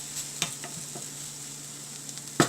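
Tomatoes cooking in a pan over a medium flame for a spicy broccoli yogurt curry, a soft continuous sizzle with a few light utensil taps, close and fairly quiet, no voices.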